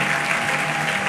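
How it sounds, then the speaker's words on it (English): A church congregation in Leicester applauds together during a harvest service, a steady, even wash of clapping throughout the short moment. "As we clap for them, all of you in concert."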